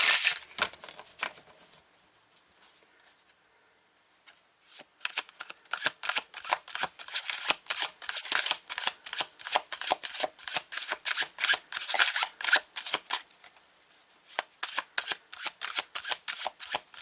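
Tarot cards riffled and shuffled by hand in repeated quick bursts, loud and close, with a short quiet pause near the start and no talking.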